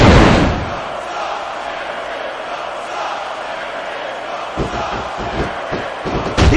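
A wrestling arena crowd roars in the video game SVR 2006, a broad sustained wash of crowd noise that swells at the start and ends with thuds from the ring.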